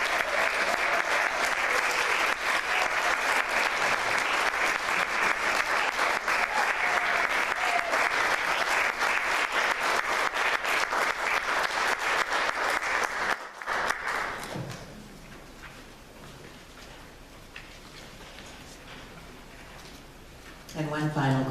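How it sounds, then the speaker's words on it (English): A concert audience at a summer salon gives a loud, dense round of applause lasting about thirteen seconds, then it drops away to quiet room sound with a few scattered claps, and the clapping briefly returns at the end. "So one more round of applause"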